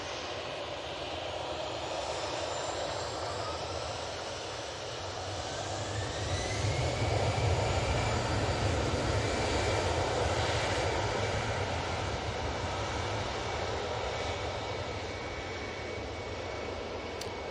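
An EasyJet airliner departing Manchester Airport for Belfast: a distant jet engine roar that swells to a peak midway and slowly fades, with a thin rising whine, no talk over it.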